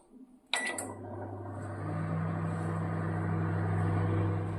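A microwave oven switched on in grill mode to cook alfam chicken: a sharp click and beep, then a steady, close, low electrical hum that swells slightly and keeps running.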